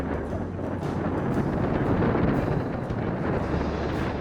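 Strong headwind buffets the microphone on a ride along the White River State Trail, a continuous low roaring rumble with gusty swells and no voices.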